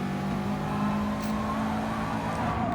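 Race car engine in Gran Turismo Sport during a daily race at Fuji International Speedway, with a Mazda nearby, holding a steady, continuous whine at even loudness throughout, with no talking.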